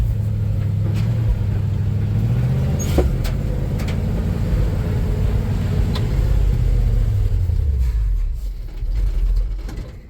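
A 1966 GMC pickup truck engine running as the truck drives in low gear, a loud, close low rumble that rises and falls with acceleration and fades slightly near the end.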